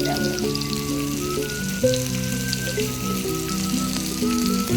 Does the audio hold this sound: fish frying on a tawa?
yes